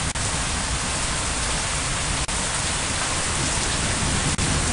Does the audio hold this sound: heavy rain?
yes